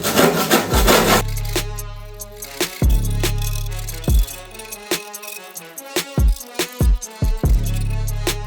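Scraping on a 1968 Chevy 250 inline six engine while oil drains, heard as repeated close, loud scraping strokes with short knocks and pauses in an uneven rhythm, no talking.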